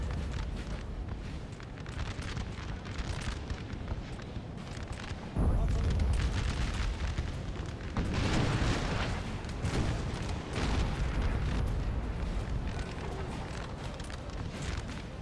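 Artillery fire in the Napoleon Total War game, deep booming cannon blasts rolling under a constant dense battle din, with someone talking over it.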